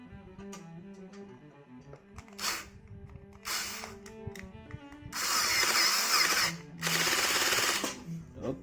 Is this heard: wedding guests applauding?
no